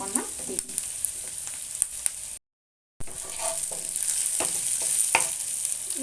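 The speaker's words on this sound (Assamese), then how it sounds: "এইখিনি সৰু সৰুকৈ কাটি থোৱা নহৰুখিনি ইয়াতে দি দিলোঁ।" Finely chopped garlic sizzles and fries in a hot pan for macaroni, a steady close crackle with occasional stirring scrapes, broken by a brief silent gap partway through.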